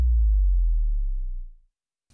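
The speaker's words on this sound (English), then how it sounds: "We have a sort of a low bass drop sound here." A deep, sine-like bass drop from a rock production's DI tracks booms loudly alone, then slowly fades out over about a second and a half, followed by silence and a faint click.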